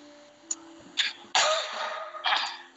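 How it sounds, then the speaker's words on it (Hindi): A man on an online physics class coughs several times in short sharp bursts, close to the microphone in a quiet room, with a faint electrical hum underneath. "सॉरी यार, मेरे को खांसी हो गई है।"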